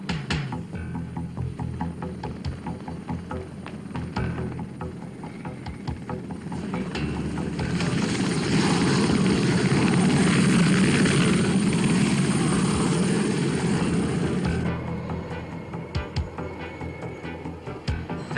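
A Puma military helicopter dispatched on a sea rescue for ejected jet pilots, its rotor and engine noise swelling as it passes close and loud, then receding.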